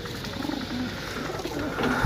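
Pigeons from a loft of breeding birds coo in low, rolling murmurs, close and continuous against a dense, noisy background hum.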